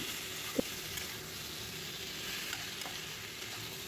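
Vegetables and spices frying in a pan over a low gas flame, a soft, even sizzle with a single faint clink early on, quiet and steady without voices.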